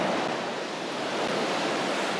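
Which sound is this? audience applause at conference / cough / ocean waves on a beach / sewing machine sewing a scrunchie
ocean waves on a beach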